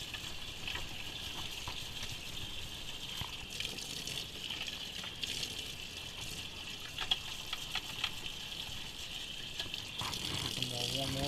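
A GI Joe Cobra Wolf toy is washed in warm water, with steady gushing and sloshing close by and a voice at times.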